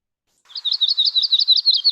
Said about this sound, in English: that was the Audubon's or Western yellow-rumped warbler